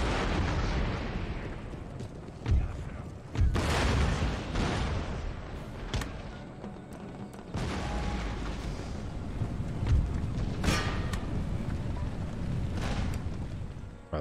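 Cannon and howitzer artillery fire in an Empire: Total War battle with Prussian forces: a dense, continuous rumble of heavy booms, with several louder blasts standing out from the barrage.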